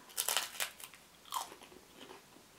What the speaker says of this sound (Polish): wezmę sobie większy kawałek i gryzę.